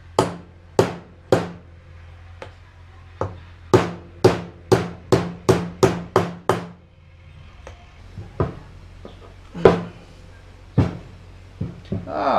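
A hammer drives a small retaining pin out of a Honda Pioneer 500 axle during a locker install, with a series of sharp metallic strikes, several in a fast rapid run, then scattered softer taps, close and loud.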